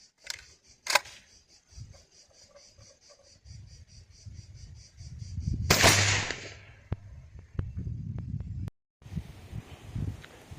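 Shotgun firing 32-gram 0000 buckshot cartridges through an American choke at an outdoor range: a single sharp blast with a decaying tail, surrounded by quieter clicks and handling noises, heard from a moderate distance.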